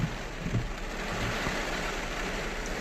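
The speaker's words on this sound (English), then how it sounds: "You guys can see it, how hard it's raining. You guys could hear it." Heavy rain pours onto a car through an open sunroof, a constant dense hiss of drops with a few louder thuds near the start, fairly faint overall.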